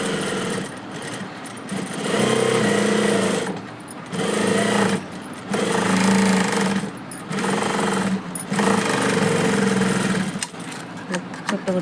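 A sewing machine stitches around a piece of cloth attached to the back part of a garment, running in loud, rattling bursts of a second or two separated by brief pauses, about five runs in all.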